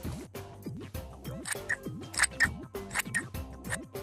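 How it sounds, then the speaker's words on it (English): Scissors snip through craft paper while cutting out shapes for a paper owl, a series of crisp little clicks and crunches heard over bouncy background music. "Now we can cut all of our pieces out, but be careful because scissors are sharp."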